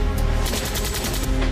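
Heavy-calibre weapons fire at a ranch as a loud, dense burst of rapid overlapping shots that is continuous for the whole short stretch, with no talk.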